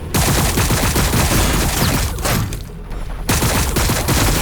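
Dense, continuous bursts of rapid gunfire from a Warhammer 40k Battlesector battle rattle on almost without pause, with a brief lull midway before the loud volleys resume.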